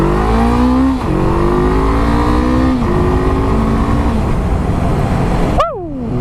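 A Honda CB500F motorcycle engine revving hard, its note climbing through several rising sweeps between gear changes, loud and close, before it drops off sharply near the end.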